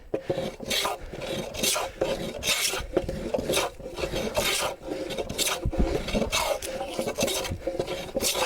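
Rhythmic rasping strokes of a hand plane shaving a wooden workbench top against the grain, rough and scratchy, repeating steadily up close with a gritty, uneven texture.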